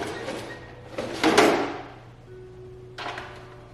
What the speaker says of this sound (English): I'm gonna just go ahead and slam every single drawer in this.